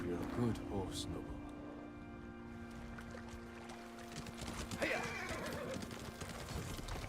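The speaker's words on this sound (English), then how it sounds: "You're a good horse, Noble." A horse whinnies near the start in the video game Ghost of Tsushima, followed by clip-clopping hooves and ambient game sounds, with occasional voices.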